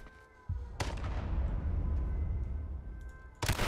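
Gunfire in the H1Z1 battle royale video game: a sharp close gunshot followed by a loud booming rumble that lingers, then another sharp report at the end, with no talk over it.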